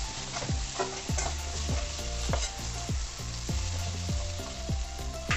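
Masala sizzles steadily in a hot pan for a curry while a spoon scrapes and stirs it in regular strokes, close and continuous, with no talking.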